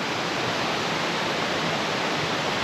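Macintosh Brook Falls, a waterfall on a hardwood forest trail, roars as a loud, continuous broadband rush of falling water with no talking over it.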